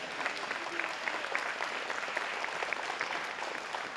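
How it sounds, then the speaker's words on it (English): Audience at a police awards ceremony applauding, a fairly soft, steady patter of many hands with some individual claps standing out, heard from a distance in a large room. "They deserve applause for that"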